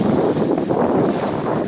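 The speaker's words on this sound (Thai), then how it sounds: "ก็คลื่นลมในทะเลค่อนข้างแรงนะครับ" Strong wind roars continuously across the microphone at Lam Pam beach in Phatthalung, with rough sea waves churning beneath in a dense, steady wash of noise and no voices.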